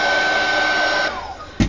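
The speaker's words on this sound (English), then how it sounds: "I'm going to get a heat tool or a hairdryer, and as I dry it" A hairdryer or heat tool blows steadily, drying a coat of gesso on printer paper, then cuts out partway through, followed by a short thump near the end.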